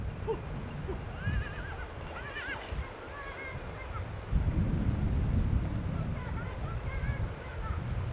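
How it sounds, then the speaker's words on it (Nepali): A horse across a river in a Himalayan village in Tsum Valley neighs several times in drawn-out whinnies that sound somewhat distant, over a steady rush of wind and flowing water. "76 वर्षकी टासी आमाको घोडा स्याहार खोला पारी छिमेकीको खेतमा छिरेको छ।"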